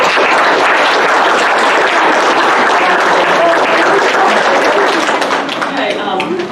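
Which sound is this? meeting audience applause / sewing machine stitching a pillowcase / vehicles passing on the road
meeting audience applause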